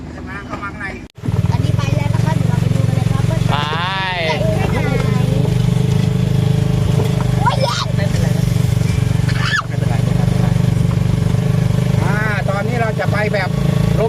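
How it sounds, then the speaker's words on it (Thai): Motorized three-wheeler samlor carrying passengers toward the launch site of a Thai rocket festival, its engine droning steadily and loud throughout while people talk over it. "นี่เรานั่งสามล้อไปกันนะคะ"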